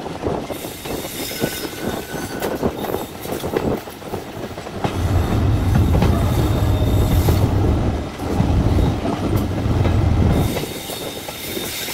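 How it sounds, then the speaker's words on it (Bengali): A Nakshikantha commuter train pulls into Mawa railway station, heard as a loud, continuous rumble from on board with rhythmic wheel clatter. A deeper, heavier roar swells midway through. "আমাদের ট্রেনটি এখন মাওয়া রেল স্টেশন প্রবেশ করছে"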